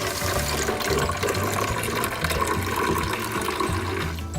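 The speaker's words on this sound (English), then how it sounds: "So you want to fill it with vinegar till it covers this blue filter right here." Vinegar pours steadily into the water reservoir of a Keurig coffee maker, a continuous close, even rushing trickle of liquid filling a plastic tank for the whole stretch, with no talking.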